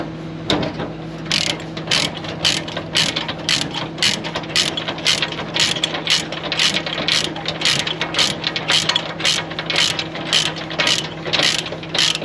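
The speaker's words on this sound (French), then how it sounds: "Il fallait que je calcule le nombre de fois où j'ai serré et desserré des tendeurs" Ratchet straps on a truck load being worked in a steady run of sharp metallic clicks, about two per second for the whole stretch, over a low steady hum from the unloading site in the southern USA.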